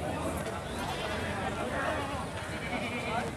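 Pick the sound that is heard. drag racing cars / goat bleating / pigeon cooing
goat bleating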